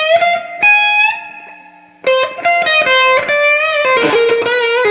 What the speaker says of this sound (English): here's the reverb on halfway